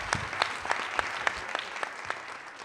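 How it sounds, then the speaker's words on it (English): An audience applauds panelists at an evening event, a short burst of moderate clapping with a few distinct individual claps standing out, fading slightly toward the end. "join me in giving them a round of applause to our panelists"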